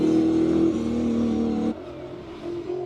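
Powerful classic V8 race car at a Cape Town classic-car speed event, engine roaring loud and close with a steady throttle, pitch dropping as it passes, then a quieter rumble trailing off.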